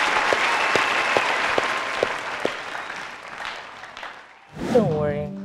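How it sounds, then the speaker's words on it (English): Studio audience applause at a televised quiz competition show, a steady wash of clapping with a few sharp nearby claps, fading out before a voice briefly speaks at the end. "Can we give both of them a big, big,"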